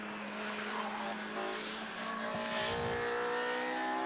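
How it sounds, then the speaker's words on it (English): Honda race cars, including a K-Series swapped car, run at Donington Park, with a steady engine drone and a car passing at mid distance, faint voices under it. "You can hear those Honda noises, I think, on your screens now."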